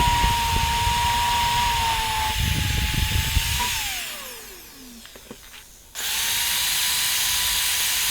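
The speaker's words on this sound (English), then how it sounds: "So just using a wire wheel in the end of the drill" A power drill whirs loudly with a wire wheel grinding against a metal part from a 1000-watt anchor windlass, pitch dropping as it spins down, a short pause, then running again.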